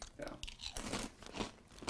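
Post Chips Ahoy cereal crunching dry in the mouth, a dense run of close, crisp bites and chewing over about two seconds.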